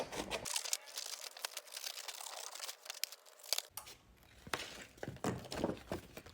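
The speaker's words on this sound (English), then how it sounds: "now what we need to do is cut it again around the shape." Scissors snipping and crinkling around a laminated t-shirt guide cut for sublimation and heat transfer vinyl; close, dry crackling cuts in an uneven series.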